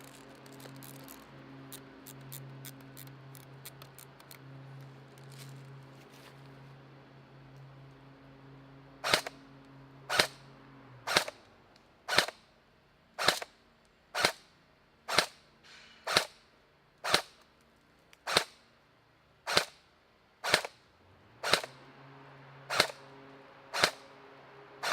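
Ares TAR 21 Tavor carbine airsoft AEG rifle fires BBs outdoors in a long string of about sixteen evenly spaced sharp single shots, crisp and fairly loud, after a stretch of quieter background hum and a quick faint burst early on.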